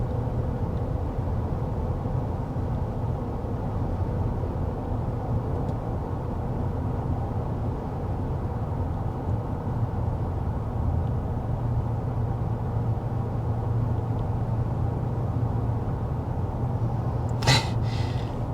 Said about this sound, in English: how quiet this Rolls-Royce Ghost is going 55 miles per hour